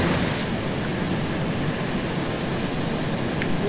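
A jet aircraft approaches in the military game ARMA 2, heard as a loud, steady, broad engine roar that fills the whole stretch without a break.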